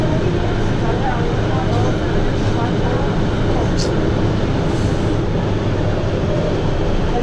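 An old metro train rides through Guadalajara, Mexico, a loud, continuous rumbling roar of wheels and carriage noise heard from inside the car, steady throughout with only minor swells.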